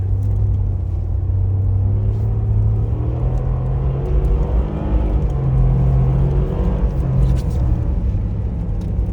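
A Mercedes G500 4x4 Squared drives on snow, its engine a steady, heavy low rumble with a continuous whir, close and unbroken, with no voices.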